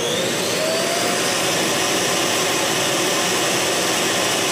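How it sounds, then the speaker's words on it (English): A loud, continuous high-pitched whooshing suction roar from a robot vacuum's dock emptying its bin, running steadily up close. "once it has finished the job, it'll empty the bin"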